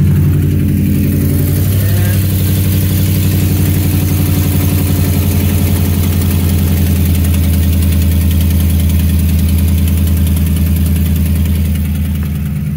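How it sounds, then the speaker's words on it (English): A Ford F-150 with the Triton 5.4 V8 cranks, starts and settles into a loud, steady idle heard up close, the low engine rumble holding evenly for several seconds. "Start it up here."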